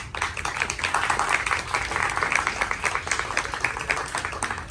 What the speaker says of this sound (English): And please, a round of applause to all of our volunteers today.